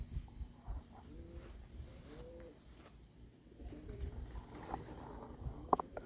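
Racing pigeons in a backyard coop give soft, low rolling coos, several repeated calls close by against quiet outdoor background noise, with a faint sharp click near the end.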